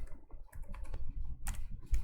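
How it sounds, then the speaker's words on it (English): Quiet typing on a computer keyboard with a space bar press, a short run of soft, irregular key clicks. "you press your space bar and then you type in quick"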